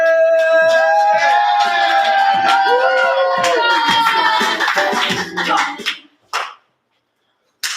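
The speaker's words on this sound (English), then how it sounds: "Let's clap it up for Chris!" At an open mic poetry slam, an audience claps and whoops for a poet taking the stage. Dense applause with cheering voices runs for several seconds, then thins to a few last claps and silence.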